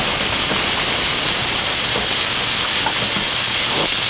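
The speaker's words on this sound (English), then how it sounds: "So we're browning the meat," Meat browning in a hot paella pan gives a loud, steady, dense sizzle that fills the whole stretch without a break.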